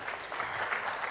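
An audience at a tribute to the poet León Felipe on the 50th anniversary of his death applauds, producing a continuous, even patter of many hands at moderate volume without any voices over it.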